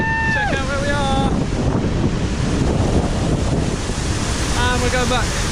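Water roars loudly and steadily at Mist Falls, a waterfall in Kings Canyon National Park, California, with wind buffeting the microphone. Brief voices break through at the start and end.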